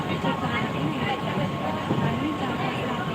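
A crowded commuter train rolls along with a steady rumbling roar and a faint tonal hum, continuous throughout, while voices murmur under the noise.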